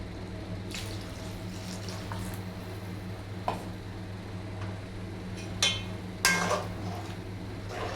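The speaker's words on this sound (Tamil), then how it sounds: "தண்ணி வந்து இன்னும் கொஞ்சம் ஊற்றிக்கலாம்" Water poured into a cooking pot for a crab dish, a low steady trickle with a few brief splashes and clatters near the end, no talking.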